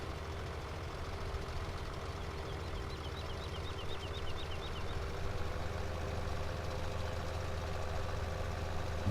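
A tractor engine in Farming Simulator 17 idles with a low, even, fairly quiet rumble that continues throughout.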